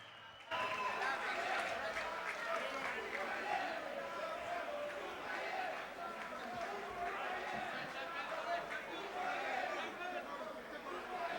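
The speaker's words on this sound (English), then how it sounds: "how about a big round of applause for Roman Karmazin" A crowd at a boxing event in Chicago applauds fighter Roman Karmazin, steady distant clapping and cheering blended with crowd chatter, continuous throughout.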